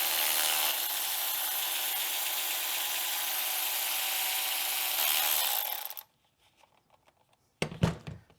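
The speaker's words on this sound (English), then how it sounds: "I will fit the pin in the ratchet, electric ratchet, and just basically hold the pad over it" An electric ratchet spins a brake caliper pin against a brake pad on a Renault Scenic 3, giving a steady, loud whirring buzz for about six seconds before cutting off, followed by a short clunky rattle.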